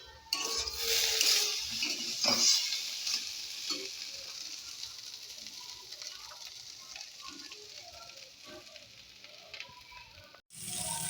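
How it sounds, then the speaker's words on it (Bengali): Eggplant fries in a pan with a continuous crackling sizzle, louder at first and then settling, and a few utensil knocks and stirring sounds come near the start. "দেখো এখানে হচ্ছে বেগুন ভাজা বসিয়ে দিয়েছি"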